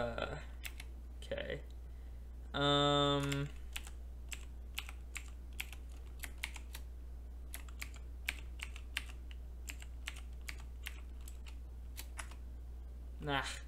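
Someone types a password on a computer keyboard: rapid, irregular key clicks run through the whole stretch, close and crisp, with a brief spoken word near the start.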